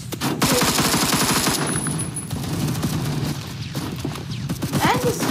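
Rapid automatic gunfire from a heavy gun in the game Phantom Forces, loud and close, with dense bursts followed by scattered shots and bits of game noise.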